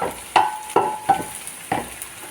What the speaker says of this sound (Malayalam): ഇളക്കി വഴറ്റിയെടുക്കും. ഉള്ളിയെല്ലാം ഒന്ന് വെന്ത് വന്നിട്ടുണ്ട്.